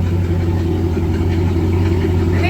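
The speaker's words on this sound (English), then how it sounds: "she's idling now" A heavy Ford F650 truck engine with an Allison transmission idles loudly and steadily nearby, a constant low rumbling drone with no revving and no talk.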